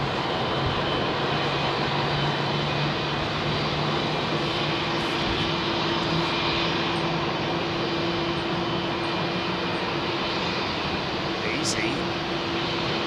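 A Boeing 747-8 freighter at Heathrow Airport sends out a loud, steady engine roar that holds throughout, with people talking excitedly nearby over the continuous drone.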